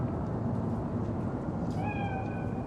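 A single drawn-out meow rises over a steady background hum, voicing a cat spirit in the game Cyberpunk 2077.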